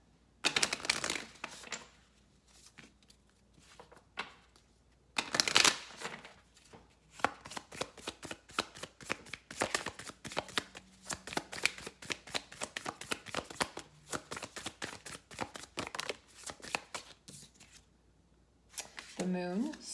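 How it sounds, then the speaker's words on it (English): A tarot deck is shuffled to draw a major arcana card, giving close, dense bursts of crisp card riffles and rapid flicking taps that come in several long runs with short quiet gaps, and no speech over them. "we're going to just pull a card here for the theme that is running through the collective right now."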